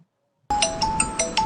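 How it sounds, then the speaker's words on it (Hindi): After a moment of silence, a phone ringtone suddenly starts, bright repeating electronic chimes ringing out clearly and loudly. "अरे वाह, सिद्धि का फोन"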